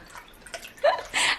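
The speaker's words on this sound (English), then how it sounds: "pour chicken broth on top" Chicken broth is poured from a carton into a cooking pot in a home kitchen. Two short, close splashing bursts are heard over quiet background.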